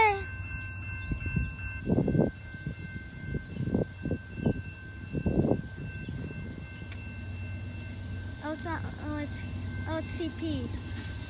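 A Canadian Pacific train passes near a crossing in Fort Edward, New York, with a steady low rumble and sustained tonal lines over it, while people talk nearby.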